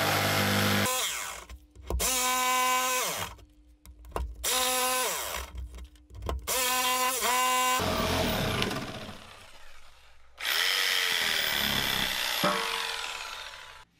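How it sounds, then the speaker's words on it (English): A power jigsaw buzzes loudly and close cutting hard maple in several separate bursts with short pauses, then a longer rough cutting run near the end. "that way I can cut out the waste with my jigsaw"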